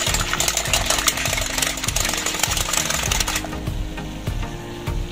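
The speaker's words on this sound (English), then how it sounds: "So whisk your eggs until they are foamy" Eggs being whisked until foamy for an instant-noodle egg dish, a fast, continuous rhythmic clatter of a whisk against a bowl, steady and close, with no talking.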